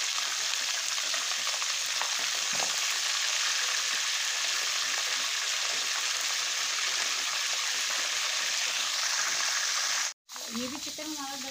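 Chicken fries in a hot pan with a loud, steady hiss and crackle that runs close and continuous for several seconds. It cuts off abruptly near the end, and a voice speaks briefly afterward.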